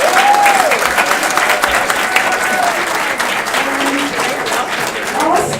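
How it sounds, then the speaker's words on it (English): Loud, continuous audience applause for a public speaking competition winner, dense clapping filling the whole stretch evenly, with faint voices mixed beneath it. "Another round of applause,"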